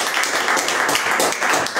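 A church congregation at a worship service claps their hands in praise, a steady, busy patter of many hands that holds at an even level.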